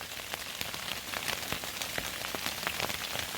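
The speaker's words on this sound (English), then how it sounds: "Yeah, it's hailing." Hail patters rapidly and continuously on a Sierra Designs Clip Flashlight 2 tent, a dense, steady crackle of small impacts at a moderate distance.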